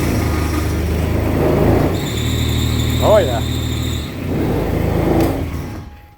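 A Kubota RTV X900 utility vehicle with a loose alternator fan belt revs, and a brief high squeal rises and falls against the engine drone; a voice speaks briefly.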